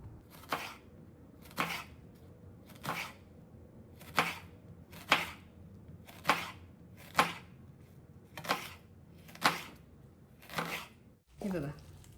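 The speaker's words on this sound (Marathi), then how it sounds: "आपण आता हा लांबट आकारात चिरून घेणार आहोत" A knife cuts through a large onion lengthwise on a board for rice noodle chow mein, giving about ten evenly spaced crisp thunks, close and fairly loud, with a short pause between strokes.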